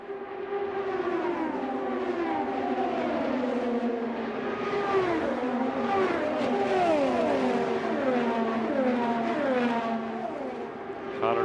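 IndyCar race cars lap the Indianapolis Motor Speedway during Indianapolis 500 practice, several high-revving engines rising and falling in pitch as they pass one after another, steady and fairly close throughout.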